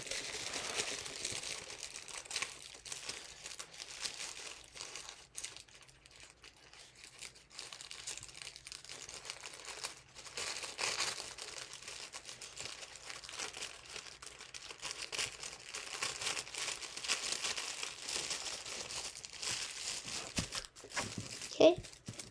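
Paper being folded into an origami elder dragon makes soft crinkles, rubs and creases, with one sharper crackle near the end, under intermittent quiet talking.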